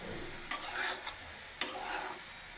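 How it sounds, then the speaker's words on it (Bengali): Sajna flower bhorta with a little potato gets stirred in a pan, two brief scraping strokes with soft sizzling between them, close and quiet, with no voices. "তারপর আমি একটু নাড়া দিয়ে দিই।"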